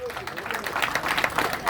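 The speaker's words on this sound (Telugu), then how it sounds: "గట్టిగా చప్పట్లు కొట్టండి." An audience clapping loudly at a gathering in Vijayawada, a dense patter of many hands spread across the whole moment, with a voice speaking over it.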